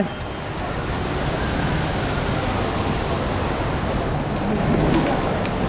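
Ba Uan waterfall, with water pouring down from a high ledge, makes a steady, dense rushing roar that stays close and loud without a break.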